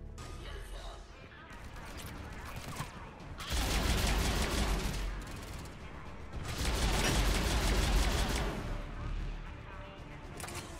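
Weapon fire in the video game Mass Effect 3, bursts of gunfire and explosive blasts in sustained loud waves during a firefight, with a voice talking over the combat.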